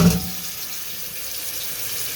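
Tap water runs steadily into a cooking pot being filled for a big family meal of salt mackerel, cabbage, dumplings and sweet potato, a continuous hiss with a louder splash at the start.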